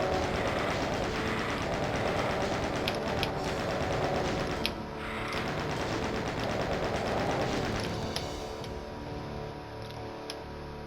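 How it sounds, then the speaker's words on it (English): Steady rapid automatic fire from a chain gun or plasma gun at lost souls in a Doom-style shooter, a fairly loud, even stream of shots over game ambience that thins out near the end. "kill all these lost souls with the chain gun, Or the plasma gun"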